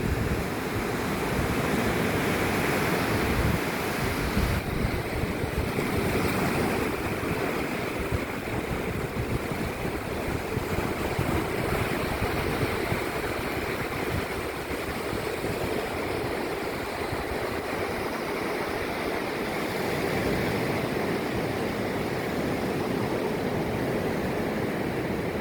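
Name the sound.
Baltic Sea waves at Narva-Jõesuu, Estonia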